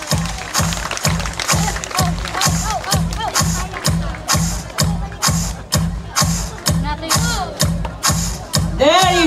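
An event crowd shouts and cheers in a rhythmic chant over a steady, pounding beat, loud and close, with voices rising in whoops across the whole stretch.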